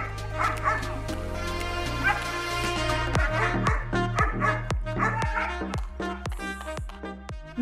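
Security dogs bark repeatedly, loud and yapping, over steady background music, with a rhythm that quickens toward the end.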